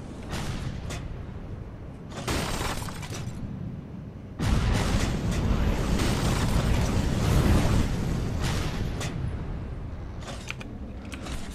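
Cannon fire and explosions from naval combat in the game From the Depths, a dense run of loud booms and blasts that grows heavier about halfway through, with sustained rumbling between shots.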